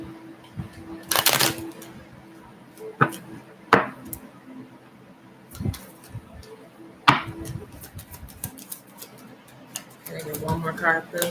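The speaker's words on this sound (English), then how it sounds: "So I kind of shuffle through these rather quickly." Oracle deck cards shuffled quickly by hand, a small deck, giving a few brisk riffling bursts and taps spread across the clip alongside speech.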